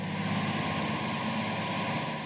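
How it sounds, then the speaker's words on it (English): A loud, steady boat engine drone with a deep low rumble and constant hum, running continuously without pause. "The deafening sound of the engine is headache-inducing."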